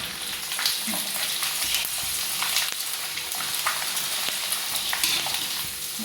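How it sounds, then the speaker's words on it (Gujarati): Steady, crackling sizzle of rice-flour farfar snacks frying in hot oil, continuous and fairly close, with occasional soft clinks. "ફરફર તળી નાખવી પહેલાં, પછી પૂરી તળશું"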